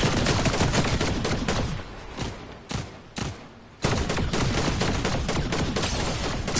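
Rapid gunfire in the video game Fortnite, dense and loud bursts with a short lull of scattered shots midway before the sustained firing resumes.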